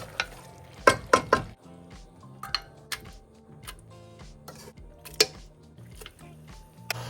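Potatoes and papaya go into mutton frying in a pan; a low steady sizzle runs throughout, broken by sharp clacks of a utensil against the pan, close and without talk.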